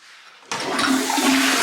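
A toilet in a newly fitted bathroom flushes with a sudden loud rush of water that starts abruptly and keeps pouring steadily and close, with no voices.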